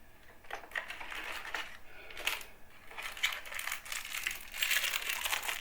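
Plastic bag of PC cooler mounting accessories for Intel being handled while unpacking, quiet close crinkling and rustling in irregular bursts with small clicks, no talk.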